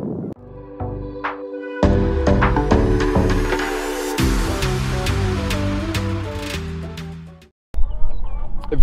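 A flock of backyard chickens clucks loudly and close by in rapid overlapping calls, with a few sharper squawks. The chatter runs almost continuously before a short gap and a final burst.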